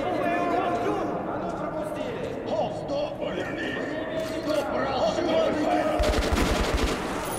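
Heavy gunfire in Metro Last Light, with a tight burst of loud rapid shots near the end over constant game noise and voices.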